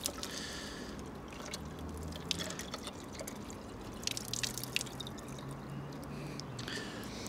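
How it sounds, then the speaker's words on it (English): Water filling a sample bottle for water quality monitoring: soft trickling and dripping with scattered small splashes and gurgles, faint and continuous throughout. "Fill the bottle up as per instructed earlier."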